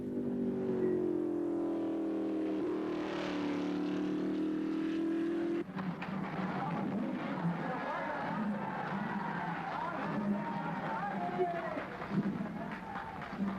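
Formula 1 cars race past the pits at Aintree at the 1955 British Grand Prix. A steady engine drone drops off suddenly, then a livelier mix of crowd and track noise follows under a commentator's voice.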